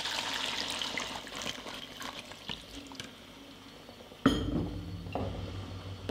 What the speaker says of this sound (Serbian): Dodajem 300 ml vruće vode.